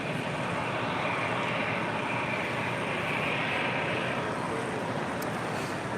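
Airbus A319 airliner taxiing and making a left turn onto a taxiway, a steady broadband engine roar with a hiss on top, continuous and moderately distant throughout with no voices.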